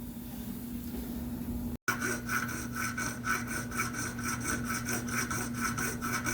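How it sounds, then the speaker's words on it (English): Bare hacksaw blade cutting through a threaded steel rod, close and steady, with rapid rhythmic back-and-forth rasping strokes after a brief pause near the start. "Why are you cutting this with just a blade and not like, say, the actual hacksaw frame?"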